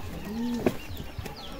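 Racing pigeons cooing inside a loft before basketing, a low rolling coo followed by soft rustling and faint bird calls close by.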